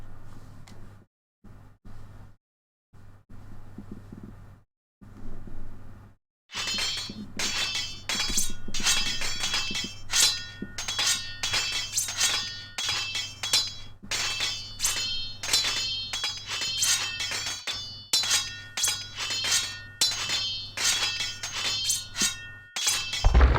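Age of Empires 2 outpost under attack and collapsing: a dense run of repeated clinking, cracking and smashing impacts, loud and close, keeps going for many seconds after a brief quiet start.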